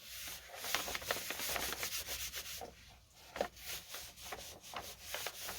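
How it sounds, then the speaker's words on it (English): Cold craft glue being rubbed and spread by hand across paper while making an altered book junk journal, giving a steady close-up rubbing and scuffing texture with repeated short strokes, no voices. "so you want to just kind of rub it together, warm it up."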